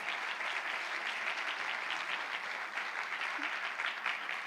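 Church congregation applauds during a sermon, a sustained, even patter of many hands clapping, soft and somewhat distant, continuing without pause and with no speech on top.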